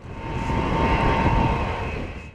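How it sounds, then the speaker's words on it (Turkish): A large transport aircraft arriving from Russia lands at Mürted Air Base in Ankara, its engines roaring in a loud, steady drone close by with no speech. "Rusya'dan gelen uçaklar ardı ardına Ankara'ya Mürted Hava Meydanı'na indi."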